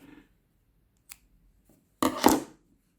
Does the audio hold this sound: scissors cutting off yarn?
yes